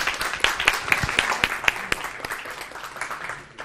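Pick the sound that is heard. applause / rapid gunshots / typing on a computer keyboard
applause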